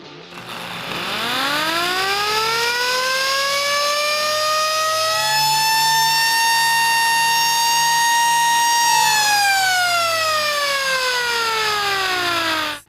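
A reverse-engineered industrial rotary siren spins up from a low growl into a loud, sustained wail that holds steady, then glides down in pitch as it winds down, with no talking over it.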